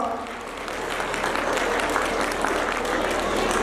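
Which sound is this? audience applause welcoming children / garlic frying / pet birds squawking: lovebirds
audience applause welcoming children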